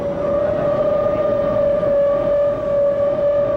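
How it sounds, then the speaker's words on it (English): A civil defense siren wails over Times Square, New York, during a daylight atom bomb drill, one loud steady sustained tone with a faint higher harmonic, droning continuously without break. "The siren's wail sends New York's inhabitants to shelter."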